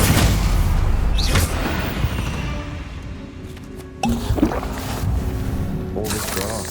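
The Expelliarmus disarming spell goes off in Hogwarts Legacy with a sharp booming impact midway through, set against continuous game ambience and combat noise in a catacomb.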